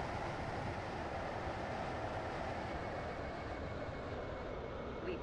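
A train running in the Stepford County Railway video game gives a steady, loud rumbling roar of wheels and motors that stays constant throughout, with no voices.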